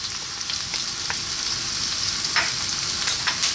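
Onions and garlic fry hard in sunflower oil over high heat, giving a steady, close, broadband sizzle with a few brief crackling pops and no talk.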